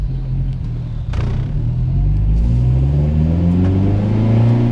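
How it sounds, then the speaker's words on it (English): A custom exhaust on a Honda Element drones and rumbles from inside the cabin, rising steadily as the engine revs and accelerates. "it's not a ton of noise on the inside. Just enough for you to know it has an exhaust"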